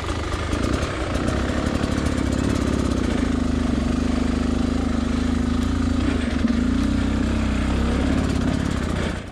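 Enduro motorcycle fitted with a SmartCarb carburetor, lugging at low revs during hard enduro training: a steady, close, low engine drone that chugs along without revving up for the whole stretch.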